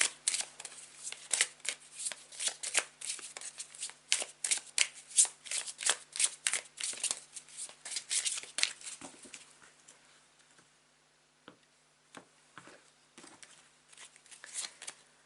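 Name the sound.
shuffling tarot cards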